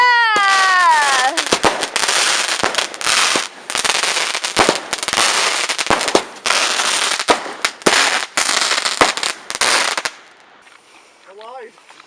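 Fireworks go off on a beach on Bonfire Night, a dense, loud run of crackling bangs and rapid pops lasting about ten seconds before dropping to quieter background with a faint distant whistle.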